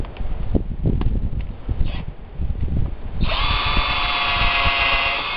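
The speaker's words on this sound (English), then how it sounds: "we got to pre-drill" Power drill pre-drilling a hole for number 10 screws on a deck roof build, starting with low knocking and handling noise before the motor spins up into a steady high whine for the last couple of seconds.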